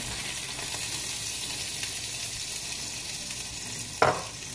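Hamburger patties frying in a pan, giving a steady close sizzle with a louder crackling burst near the end as more meat goes in.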